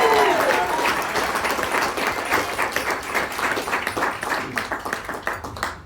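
An audience at a Climate Solutions gathering in Oregon breaks into sustained applause for Meredith, dense clapping mixed with crowd noise that holds steady for several seconds and thins slightly toward the end.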